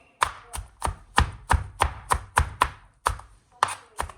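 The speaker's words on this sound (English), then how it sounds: "I'm chopping around, y'all." Onion is chopped on a cutting board for a vegetarian omelet, a string of about a dozen crisp, close knife strikes at a steady, slightly uneven rhythm, each a sharp tap with a short tail, and no talking.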